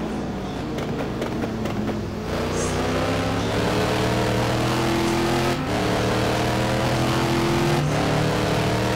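Mad Croc Corvette number 11 GT1 race car at Road America roaring close by, its engine climbing steadily through the gears with brief dips at shifts, loud and sustained without talk.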